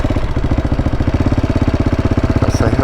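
A motorcycle engine idles steadily at a Nicaragua–Costa Rica border crossing, a close, loud, even pulsing throb that continues throughout with no talking.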